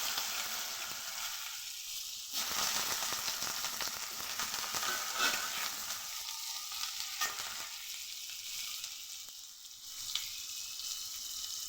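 Potatoes frying in oil with cumin and dried chilli make a constant crackling sizzle. It swells into louder bursts of spatter and stirring at a few points, and no one speaks.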